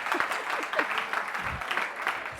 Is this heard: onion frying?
no